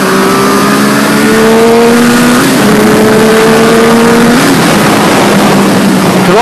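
A Triumph triple-cylinder motorcycle engine revs loudly and close by, its droning note rising in pitch over several seconds, dropping briefly, then climbing again, with no voices.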